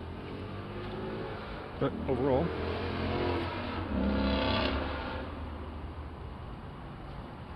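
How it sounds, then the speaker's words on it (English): A motorcycle passes by outdoors, its engine swelling and revving up through the middle before fading, heard under someone talking close by. "it's always somebody with a motorcycle, every time."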